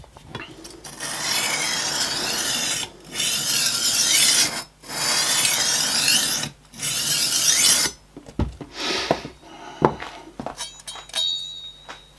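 A kitchen knife is drawn repeatedly through a cheap roller sharpener, giving long loud grinding rasps in steady strokes with short pauses, then lighter scraping and clinks at the end.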